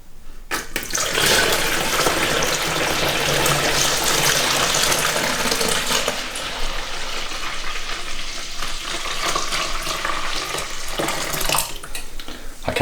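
Home-brewed pale ale wort, made by the brew-in-a-bag method, pours through a funnel into a jug, a steady rushing, splashing liquid flow that runs loud and continuous for about eleven seconds, then tapers and stops.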